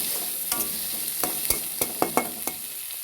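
Crushed garlic and half-boiled raw banana sauté in an iron kadai, a steady sizzle broken by sharp clicks and scrapes of a stirring spoon against the pan, close and alone.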